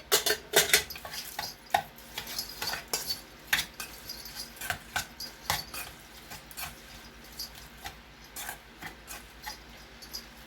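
Spoon clinking and scraping against a bowl while onion is stirred into a paneer biryani marinade, a series of close, irregular metallic taps and scrapes that fade toward the end, with no talking.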